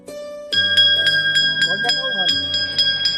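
Bell at a Shiva shrine rings repeatedly in a steady rhythm, each bright metallic strike ringing on with long overtones, loud and close, while people talk faintly under it.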